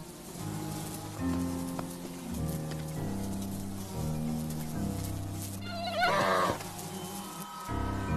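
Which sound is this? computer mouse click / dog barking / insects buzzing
insects buzzing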